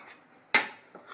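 A spoon or ladle clanks against a metal cooking pot while salt is stirred into mudavattukal kilangu soup, with one sharp loud scrape-clack midway and softer clinks before and after, no talk.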